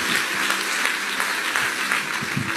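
A church congregation claps and applauds steadily throughout, a dense, continuous wash of hand claps filling the room.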